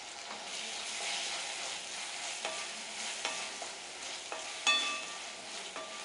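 Ginger, garlic and green chilli sauté in a hot pan, giving a constant close sizzle with a few light clinks and scrapes of a spoon stirring through the oil.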